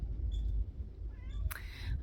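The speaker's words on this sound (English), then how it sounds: "my cat won't stop meowing now." A cat gives a short meow in the middle and a sharper cry near the end, both fairly faint and close, over a low steady room hum.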